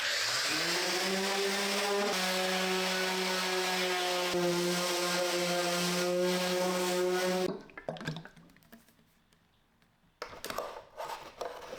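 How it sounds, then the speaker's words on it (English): A power saw rips 3/4 inch plywood into slats for a kitchen island, a loud steady whining drone that holds for about seven seconds before cutting off, followed by quieter clattering and handling noises. "I'm gonna go ahead and take the 3/4 inch plywood and just start ripping it down to be used for the wooden slats"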